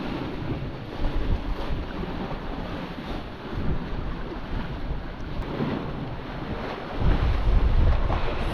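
Steady wind roars across a remote island shore as waves wash in, a constant, loud, blustery rush that swells now and then, with no voices.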